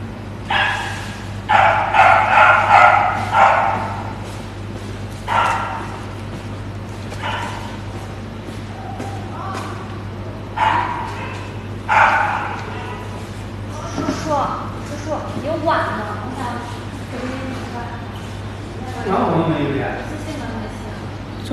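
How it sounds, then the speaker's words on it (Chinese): Small and large dogs bark noisily in repeated bursts, mixed with yips and whimpers, over a steady low hum while a person keeps talking. "大狗小狗都很吵。"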